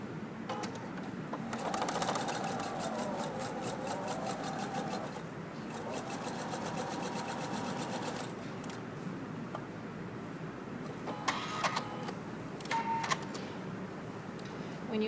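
Sewing machine stitching quilt binding strips together along the diagonal, running in a steady rapid mechanical chatter for about eight seconds, then pausing into shorter bursts and clicks of fabric handling.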